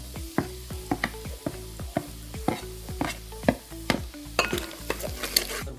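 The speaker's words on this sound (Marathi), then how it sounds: "पहिले मिरची भाजून घेऊ थोडंसं" Green chillies roasting in oil in a pan for spicy kanduri mutton, with a steady sizzle beneath a regular run of sharp scraping stirs, close and fairly loud.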